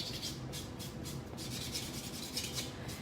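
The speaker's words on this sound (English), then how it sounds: "I'm gonna go back to my buffer because I really prefer the end finish of the buffer overall" A nail buffer rubs back and forth over dip powder nails in quick, even strokes, a soft close scratchy rasping repeated steadily and alone.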